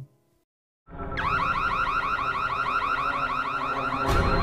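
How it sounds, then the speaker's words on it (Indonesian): A loud car alarm in a film scene starts abruptly after a brief silence, cycling through a rapid warbling siren pattern that continues steadily. "Alhasil alarm berbunyi"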